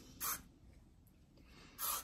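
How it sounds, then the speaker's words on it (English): Two short hisses of hairspray from an aerosol can, close and crisp, separated by a brief quiet pause. "I'm going to use just a couple of squirts of hairspray to keep it"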